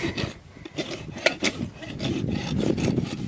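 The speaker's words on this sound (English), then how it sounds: "then you can kind of clean it up with the soft side of the rasp, the fine side" A farrier's rasp files across the toe of a horse's hoof, giving a close, repeated scraping and rubbing sound in uneven strokes with no talking.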